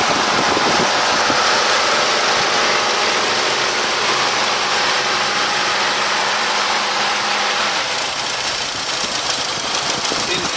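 A 2008 Mitsubishi Lancer EVO 10 with a turbocharged all-wheel-drive engine idles close by, a steady loud mechanical hum and whir with a faint rhythmic ticking underneath, holding even throughout.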